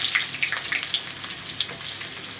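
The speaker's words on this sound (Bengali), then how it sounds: "পেঁয়াজগুলো একটু ভেজে নেবো।" Chopped onions fry in oil with whole garam masala and bay leaves for a mutton kosha, a close, steady sizzle dotted with quick crackles and pops.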